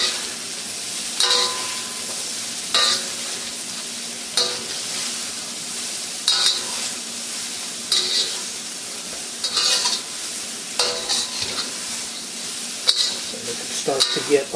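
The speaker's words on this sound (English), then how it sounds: "I'll be putting the broccoli in now too because it takes a while" Broccoli and other vegetables stir-fry in an oiled wok, a steady loud sizzle broken by regular metallic scrapes and clinks of a spatula roughly every second or two.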